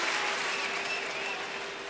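A rugby stadium crowd at Paris applauds a substituted player during the 2007 Rugby World Cup third-place match between France and Argentina, a broad, distant wash of clapping that slowly fades.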